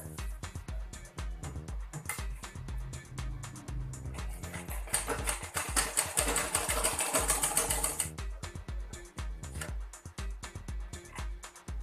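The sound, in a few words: sewing machine stitching a lehenga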